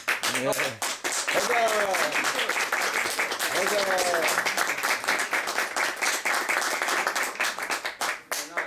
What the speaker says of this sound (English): Very nice to hear such applause.